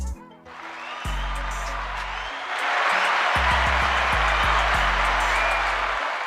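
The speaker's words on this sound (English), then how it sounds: "Clap it up." Studio audience clapping after an International Women's Day remark, a dense continuous patter of many hands growing louder partway through, heard close beneath bursts of low electronic music tones and no speech.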